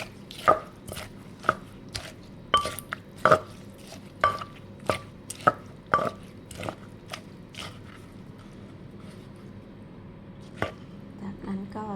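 Chili powder being tossed and pounded into a spicy Thai khanom chin salad, with about a dozen sharp, close knocks of a pestle in a mortar in an uneven rhythm that thins out toward the end, and no talk.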